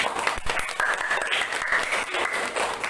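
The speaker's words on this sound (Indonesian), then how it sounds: "kasih aplaus untuk kelompok 3" Classroom group of students giving applause for a presenting group, a steady patter of many hands clapping, moderately loud, with faint voices mixed in.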